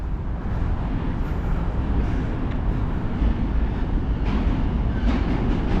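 A subway train rolls across the Manhattan Bridge in New York City, a steady, loud rumble and roar of rail traffic heard up close that holds without a break for the whole stretch.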